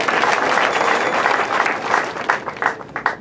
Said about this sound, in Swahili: Kwa hiyo naomba muwapigie makofi hata wao.